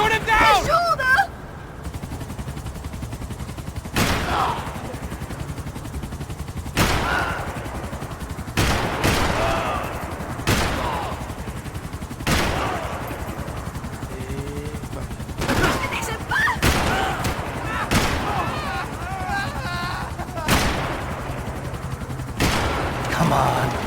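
Gunfire rings out in the video game Max Payne 3, with sharp, loud shots and bursts scattered irregularly through the scene. Voices shout in between and under the shooting.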